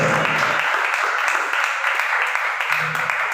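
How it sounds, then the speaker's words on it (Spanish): A church congregation claps briefly during a sermon, a dense, fairly even round of applause with a voice faintly underneath. "¿Cuánto le damos un aplauso al Señor?"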